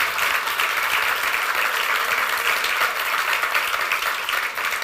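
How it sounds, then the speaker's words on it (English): A showcase audience breaks into sustained, dense applause at a steady level from start to finish. "I think we need a round of applause for accomplishing this"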